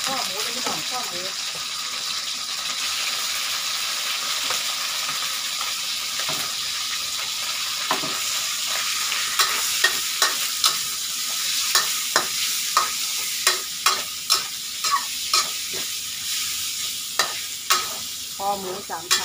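Pork belly stir-fried with ginger in a pan, a continuous close sizzle broken by a rapid series of sharp scraping and tossing knocks from the spatula, with a voice talking over it.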